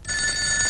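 A home telephone rings in a short, sustained electronic bell tone, clear and fairly loud, with nothing else heard.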